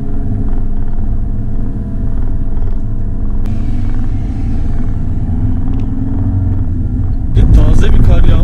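A car engine strains as it drives over a road covered in fresh, piled-up snow in Ilgaz Mountain National Park, a loud, steady low rumble that swells near the end.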